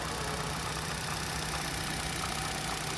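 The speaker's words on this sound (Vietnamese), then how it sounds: "Máy chạy êm." Engine of a 2009 Daewoo Lacetti SE car idling, a steady low hum with an even, continuous drone and no talk over it.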